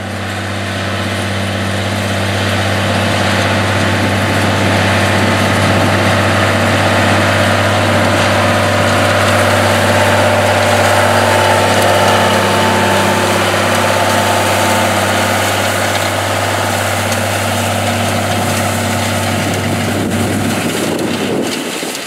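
A classic tractor pulls a hay mower conditioner cutting a 9-foot swath, its engine droning loud and constant with deep steady hum and machinery rattle, plus some wind buffeting on the microphone.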